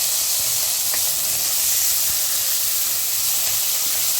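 Chopped tomato is dropped into potatoes frying in oil for a crab dish, setting off a loud, steady hissing sizzle that continues without pause, close by and with no voices.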